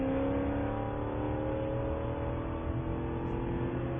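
Spec Corvette race cars at Sonoma Raceway roar past at full throttle, a loud, continuous layered engine howl with shifting pitch as several cars run together on track.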